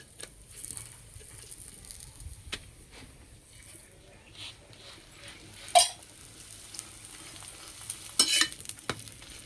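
A spinach paratha frying in a pan gives a soft, low sizzle with scattered crackles and a few sharper pops and scrapes, fairly quiet and close.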